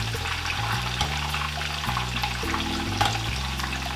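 Breaded steak milanesa frying in hot oil in a pan, a dense continuous sizzle and bubbling close up, with a low hum steady underneath.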